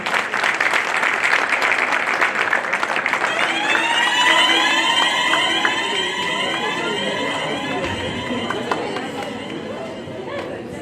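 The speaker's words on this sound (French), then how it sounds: "On applaudit les deux équipes." A crowd at a football match claps for both teams at half-time, dense applause and chatter over a steady crowd roar, with a whistle-like alarm tone sweeping above it from about three seconds on.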